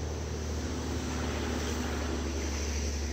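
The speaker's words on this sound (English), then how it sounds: "Yeah, you can hear the highway." Distant highway traffic near the Appalachian Trail forms a steady, broad wash of road noise, faint and unbroken, with no voices.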